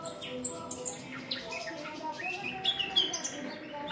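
Several caged nightingales singing indoors in a warm room in winter, a busy mix of chirps, trills and whistles from more than one bird, moderately close, with a faint human voice in the background.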